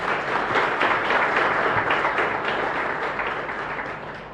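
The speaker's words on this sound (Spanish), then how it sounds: "Un aplauso para él." A congregation at a Mass in a chapel applauds the priest with sustained, dense clapping from a crowd that fills the room. It holds steady and starts to fade toward the end.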